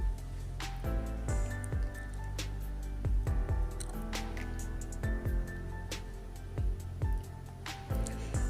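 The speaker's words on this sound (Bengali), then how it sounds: "খাজাগোলা এক পাশ হয়ে গিয়েছে এখন আমি উল্টিয়ে দিচ্ছি" Mini khaja pastries fry in hot oil as they are turned over, a steady close sizzle broken by sharp clicks and taps of the utensil at irregular intervals.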